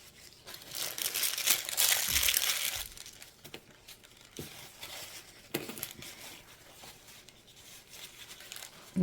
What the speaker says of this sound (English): so I'm going to cut a little hole